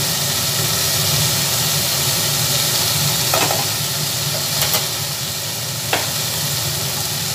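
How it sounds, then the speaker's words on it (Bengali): Bata fish curry simmering in oil with turmeric and cumin powder in a pan, a steady sizzle and hiss with a few brief sharp scrapes of stirring. "এবার ভালোভাবে নাড়াচাড়া করে নিচ্ছি"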